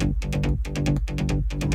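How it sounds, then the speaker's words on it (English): A solo deep trance synth bass line from the main section of a studio track plays alone: a rhythmic pattern of punchy low notes in repeating groups, loud and close, with no voices. "This is the deep bass line in the main part."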